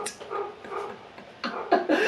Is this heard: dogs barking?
yes